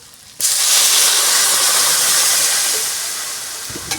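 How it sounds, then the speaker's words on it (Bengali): Water tipped into a hot pan of mashed yam (mete alu) dal gives a sudden loud, broad hiss that erupts at once and holds steady, slowly easing toward the end. "এবার জল দিয়ে দেবো।"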